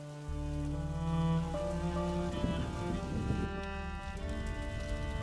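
Steady rain falls in the video game A Plague Tale: Innocence, a constant close hiss of drops that runs the whole length under sustained musical tones.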